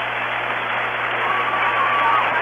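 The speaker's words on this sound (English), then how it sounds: "He gets a nice hand from this crowd." A crowd applauds at a 1965 Yankees vs. Astros exhibition baseball game, a steady wash of clapping heard through a narrow, old radio broadcast sound.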